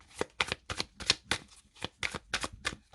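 Tarot cards are cut and shuffled in a quick series of about ten crisp, close riffling bursts with brief gaps between them, and no talking.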